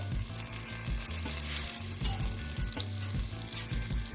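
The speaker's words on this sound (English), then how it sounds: "Let's go ahead and toss in some garlic." Garlic sizzles in melted butter and olive oil in a pan, a steady close hiss of frying with soft stirring knocks beneath, no talking.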